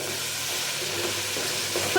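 Tomatoes sauté in a hot pan for a drumstick curry, with a continuous close sizzle and hiss of frying and no voices.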